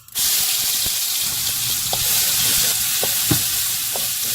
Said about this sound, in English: we got our trusty little wok pan screaming hot. We pour in some oil and we put in the spice paste.